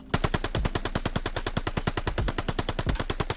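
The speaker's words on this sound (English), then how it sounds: "So if we use an MP40, for example, and I don't move my right stick when I shoot," An MP40 submachine gun fires in a video game, a rapid, even burst of about twenty-five loud, close shots lasting over three seconds.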